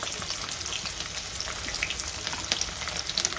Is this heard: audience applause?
no